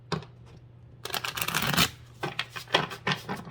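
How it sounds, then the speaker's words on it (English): Oracle cards shuffled in the hands during a spirit animal reading, a dense riffling burst in the middle followed by several shorter crisp shuffles, close and clear with no talking. "One more shuffle."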